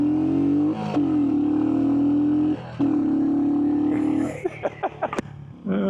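A Royal Enfield Hunter 350 motorcycle engine holds a steady, fairly loud tone, dipping briefly twice. It then breaks into uneven pops and clatter as the revs fall near the end.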